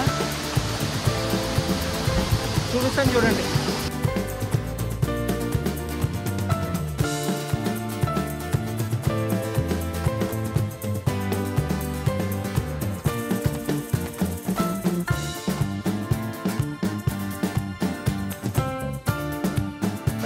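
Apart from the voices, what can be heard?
Katika waterfall, 450 feet high, Araku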